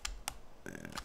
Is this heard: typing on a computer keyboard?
yes